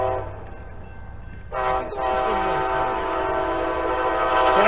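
An Amtrak passenger train passes Encinitas station, roaring steadily nearby while a loud horn blares, its tone shifting as it sounds repeatedly.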